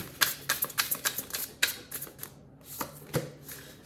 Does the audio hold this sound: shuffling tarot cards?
yes